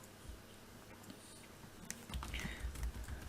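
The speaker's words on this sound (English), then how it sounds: "I'm actually going to be typing in here" Keys clatter on a computer keyboard during a coding lesson, a quiet patter of taps that turns into a denser, louder burst of typing in the second half, with no talking.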